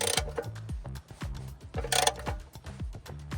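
Socket ratchet tightening the oil drain plug on a 2008 Ford F350 with a 6.4 Powerstroke diesel, a close run of rapid metallic pawl clicks in short repeated strokes, alone without talk.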